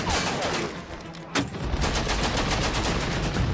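Heavy gunfire rakes the armoured wheelhouse of a Second World War vessel, a dense continuous crackle of impacts with one sharp louder hit, loud and close with no voices.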